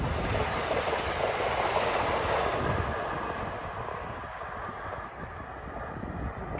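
Amtrak train 94, bound from Newport News, Virginia to Boston, rushes through Rahway with a steady loud roar of wheels and rail noise that holds throughout, then eases slightly toward the end, with no talk.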